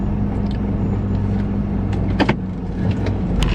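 An old car called Betsy idles and runs rough, its engine rumble close and steady throughout, with a couple of brief clunks and squeaks partway through and no talking.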